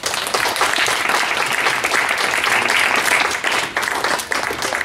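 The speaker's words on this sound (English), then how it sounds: "Round of applause, everyone." Round of applause at the close of speeches at an ICJ moot court event in 2014: dense, continuous clapping from an audience, steady and fairly loud for several seconds.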